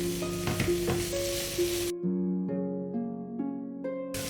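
Grated green mango frying in a pan with onion, a steady sizzle with stirring that cuts out abruptly, leaving background music before the sizzle briefly returns.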